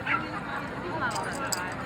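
Rescue dogs at an outdoor Woofstock dog event give short yips and whimpering barks, brief and mid-distance, amid crowd chatter and people talking nearby.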